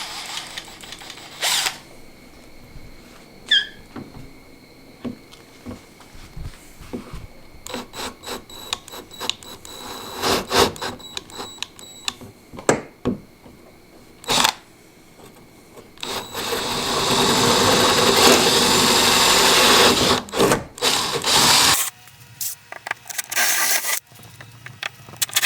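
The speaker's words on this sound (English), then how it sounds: "So we'll get these drilled and see how she fits." Power drill boring holes in carbon fiber, with a run of short close bursts and clicks followed by a longer sustained drilling stretch, then a few more brief bursts.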